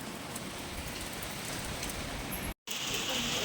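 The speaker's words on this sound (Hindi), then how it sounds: "तो अभी तक बारिश हो रही है" Steady rain falls outside a room, a dense even hiss of drops filling the whole stretch, with a very brief break partway through.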